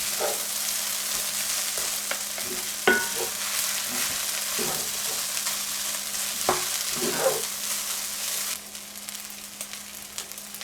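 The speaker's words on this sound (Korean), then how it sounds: "왜냐면 조금 더 볶아줘야 되거든요" Fried rice is stir-fried in a pan, with a steady sizzle and frying hiss, a low hum beneath, and occasional scraping and clacking of a utensil against the pan as the rice is tossed.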